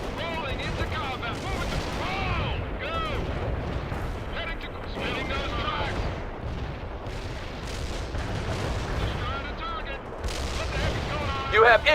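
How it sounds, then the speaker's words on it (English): Battlefield gunfire and artillery in World in Conflict, repeated blasts and crackling shots rolling under radio chatter and voices, fairly loud and continuous with sharper bursts near the end. "You have incoming fire"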